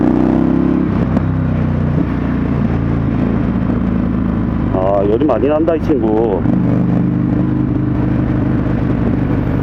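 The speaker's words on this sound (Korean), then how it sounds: "고배기량 2통 스포츠 바이크답게 어, 엔진 느낌이 좀 많이 거친 느낌입니다." An Indian FTR1200 twin-cylinder sport motorcycle rumbles steadily with a rough, throbbing idle, broken by one quick rising and falling rev in the middle, while someone talks over the engine.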